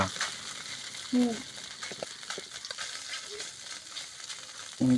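Papad frying in a pan: a steady soft sizzle with faint crackles and light stirring, moderately quiet throughout, with brief tonal household sounds near the start and end.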